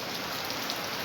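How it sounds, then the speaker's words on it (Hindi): Heavy rain pours down in a dense, steady hiss, loud and unbroken throughout, with no voices. "बहुत तेज़ बारिश है।"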